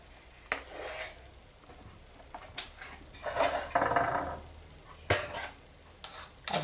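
Coconut cupcake batter being spooned into 12 cups, with soft scrapes and scattered light clinks of a utensil against a bowl and tin, quiet and close, with no talk.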